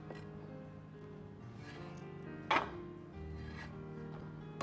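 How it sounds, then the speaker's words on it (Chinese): A kitchen knife chops fresh green beans into long pieces on a cutting board, with a few soft, spaced cuts and one sharper, louder chop midway, close and fairly quiet with no talking. "然后再改刀切成长段"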